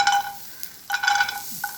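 Cashew nuts dry-roast in a hot pan with no oil, giving short scraping stirs and a light rattle in close, intermittent bursts, with no talking.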